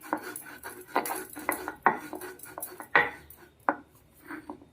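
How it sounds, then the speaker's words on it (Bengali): Cardamom seeds with a little sugar being ground by hand, a series of sharp, uneven knocks and scrapes of stone or metal, close by and fairly loud, with short gaps between them and no speech. "খুব অল্প সামান্য চিনি দিয়ে আমি এলাচের দানাগুলোকে একটু বেটে নিলাম"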